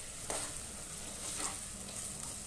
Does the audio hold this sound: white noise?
no